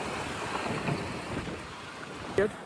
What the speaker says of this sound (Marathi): खूप मस्त थंड हवा सुटलेली आहे